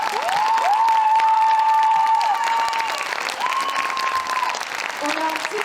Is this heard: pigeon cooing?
no